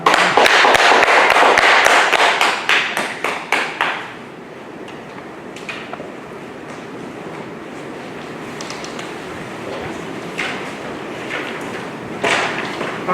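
A lecture audience at a Won Buddhist citizens' meditation hall in Busan claps loudly and densely for several seconds to welcome the lecturer, then the applause thins into a few scattered claps and taps over a quiet room.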